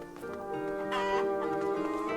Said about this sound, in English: Oh, there's a chicken. They had to animate a little chicken.